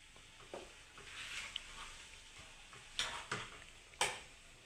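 A spoon stirs food in a frying pan: a low, steady sizzle runs throughout, and it is broken near the end by a few sharp, close clicks of the spoon striking the pan.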